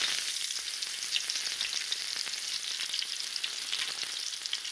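Garlic frying softly in a pan while being stirred, a steady close hiss with faint crackles running unbroken and alone.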